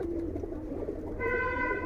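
Pigeons coo at a pigeon farm, soft low throaty calls close by, with a brief brighter bird call entering near the end.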